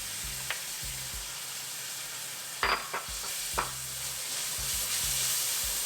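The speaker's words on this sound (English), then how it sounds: "We'll saute these until the tomatoes turn nice and soft." Tomatoes and ginger garlic paste sauté in a pan with a soft, constant sizzle and hiss, broken by a few quick clinks and stirring scrapes, with low thumps underneath.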